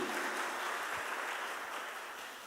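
A church congregation claps together in a broad, even wash of applause that fades slightly toward the end, moderately distant with no voices over it.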